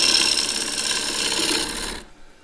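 Wood lathe turning a short log of freshly cut Japanese maple, the tool scraping off a layer of MDF with a steady, close, rough hiss and chatter that cuts off abruptly near the end.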